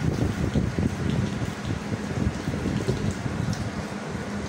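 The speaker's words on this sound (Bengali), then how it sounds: "বাইরে অনেক বৃষ্টি পড়তেছে," Heavy rain pours steadily outdoors throughout, a dense, continuous hiss with low rumbling texture and no voices.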